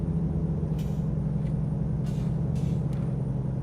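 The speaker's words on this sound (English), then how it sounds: "Truck volume's still a little bit loud." Heavy truck engine in a truck driving video game, a steady low rumble running throughout, with several short hissing bursts of air brake release breaking in over the drone.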